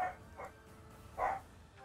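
Dogs barking in Fire Emblem: Three Houses, short muffled woofs coming in a few separate bursts at moderate distance, heard alone with no talk.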